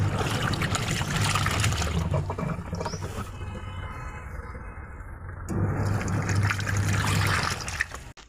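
Water from a washed woolen bedsheet drains out inside a washing machine, a steady rushing, gurgling flow that runs loudly throughout, briefly easing midway.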